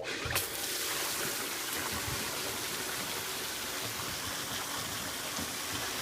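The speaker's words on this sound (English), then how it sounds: "I should see water spitting out the outtake now." Water spitting out of the return outlet of a pool sand filter in normal operating mode, a steady broadband splashing rush that continues unbroken and close throughout, with no speech.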